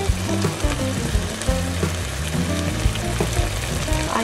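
Passata poured into a hot pan sizzles loudly and continuously, a dense crackling fry with bubbling and stirring scrapes, close up and alone, while cooking a Slimming World lasagne sauce.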